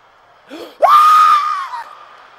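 A comedian's voice imitates a child's scream: a short gasping lead-in, then one loud sustained high wail of about a second that tapers off, before a live comedy-show audience.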